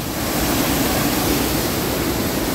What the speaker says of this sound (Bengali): সাদা দুধের মতো শুধু জল চারিদিকে, প্রচুর পরিমাণ জল এইটা দিয়ে এখন নেমে আসছে